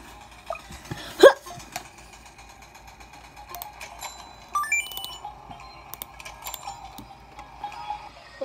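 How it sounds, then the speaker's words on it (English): A single sharp hiccup sounds once near the start, loud and abrupt against a quiet background scattered with faint clicks and ticks. "I have a hiccup."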